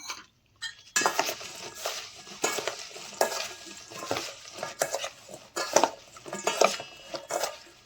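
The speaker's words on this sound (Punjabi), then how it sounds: "ਹੁਣ ਇਹਨਾਂ ਦੇ ਵਿੱਚੋਂ ਨਿੰਬੂ ਪਾ ਦੇਣਾ ਮੈਂ ਇਹਨੂੰ ਵੀ ਚੰਗੀ ਤਰ੍ਹਾਂ ਮਿਕਸ ਕਰ ਦੇਣਾ" Green chilli pickle being stirred with squeezed lemon juice in a bowl, Punjabi style: repeated scraping, clinking spoon strokes against the bowl, each a short bright burst in an uneven rhythm, close and clear with no talking.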